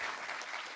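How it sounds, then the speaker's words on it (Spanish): Brief burst of audience applause after an expert's talk on geographical indications at an INDECOPI lecture, steady dense clapping throughout, fairly distant and moderately quiet. "por lo menos un aplauso pues para nuestro expositor por su brillante exposición"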